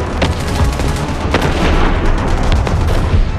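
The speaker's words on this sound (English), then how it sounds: "Firing 76mm shells into the air like crazy." Anti-aircraft guns firing 76mm shells into the air, a chaotic volley of loud booming shots and cracks overlapping in rapid succession.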